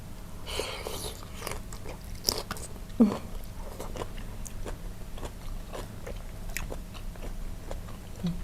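Crispy shrimp marinated in fish sauce, eaten with shredded cabbage, being chewed with crunchy bites: repeated close, sharp crackling crunches in an irregular rhythm, with one louder snap among them and a quiet background between bites.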